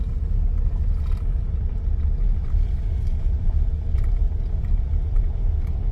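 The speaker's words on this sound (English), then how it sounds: "We're just driving around the outside of Loop A." A car rolls slowly around a campground loop at Cavendish Beach in the PEI national park, giving a steady low rumble of engine and tyres heard from inside, with no talking.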